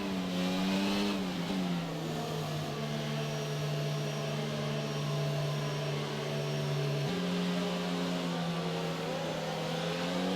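Sustained F1 22 race car engine on PlayStation at Abu Dhabi, a close steady whine that climbs and drops with gear shifts, constant and loud with no talk.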